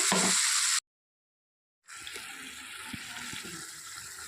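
Water runs briefly into a blender jar to rinse it while cooking an egg dish, a steady broadband splash that stops for about a second and then resumes at a similar, moderately loud level.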